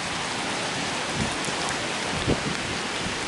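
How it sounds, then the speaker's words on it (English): Wind-driven rain from Hurricane Sandy lashes through a downtown street in a dense, steady hiss, with a few heavier gusty bursts and no voices. "Look at that rain whip through."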